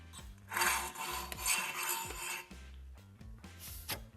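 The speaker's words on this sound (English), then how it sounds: "sand it flat" Rasping, scraping strokes of sanding or filing flat the freshly cut end of a metal brake line, close and fairly loud, with light metallic clinks and a short pause partway through.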